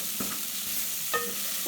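Beef browns in a pot with a soft, steady sizzle, and a few quiet scraping clicks come from stirring, close and faint.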